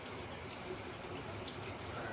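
A first-floor shower head sprays cold water when a thermostatic mixing valve fails, giving a steady, even hiss of running water at close range with no talk over it.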